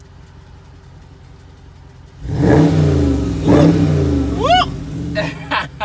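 A Dodge Charger Scat Pack with a 6.4L engine revs up from quiet in two loud rising pulls with deep exhaust roar, then a sharp climbing blip, while a person whoops over it.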